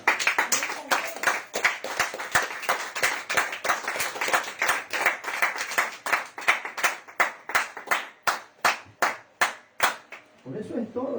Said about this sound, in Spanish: Dele aplausos al Señor.